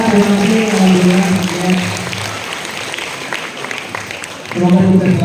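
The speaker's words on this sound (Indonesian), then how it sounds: "sekali lagi beri tepuk tangan untuk keluarga kita" Audience applause at an entrepreneurship talk show, a broad wash of clapping that runs steadily for several seconds, with speech-like tones and a voice over it at the start and end.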